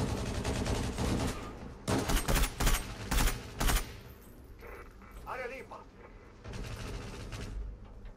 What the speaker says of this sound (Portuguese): O cara já entrou atirando